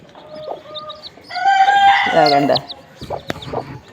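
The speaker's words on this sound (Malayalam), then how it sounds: "കണ്ട 5 കോഴികളുണ്ട്" A native hen with newly hatched chicks clucks and calls close by, with a louder crowing-like burst in the middle and a brief spoken word near the end.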